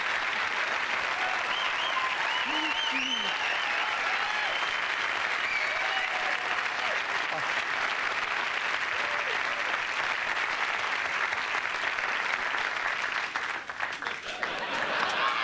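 A studio audience at a late-night talk show applauds loudly and steadily for about fifteen seconds, a dense wash of clapping with a few cheers and whoops on top that fades slightly at the very end.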